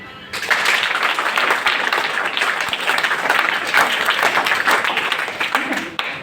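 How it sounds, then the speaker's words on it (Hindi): Loud, steady applause from a large audience fills the room, continuous clapping that starts abruptly and holds for several seconds. "जोरदार तालियां।"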